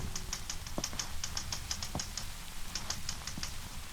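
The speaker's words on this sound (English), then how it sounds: "One night, Lorre was typing a story in a room" Keys clack on a typewriter in a quiet room for a radio drama effect, a quick irregular patter of light taps with a few heavier strikes, close and steady throughout.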